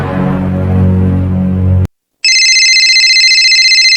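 A phone ringtone comes in after a loud, noisy stretch and a short silence, then plays as a steady, bright repeating electronic melody close to the listener until the end.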